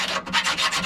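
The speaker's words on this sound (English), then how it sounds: "I've just got a chainsaw file and I'm just cleaning that all out." A chainsaw file rasps rust out of a metal part on a Rayburn stove in quick back-and-forth strokes, close and loud, roughly five scraping passes in under a second.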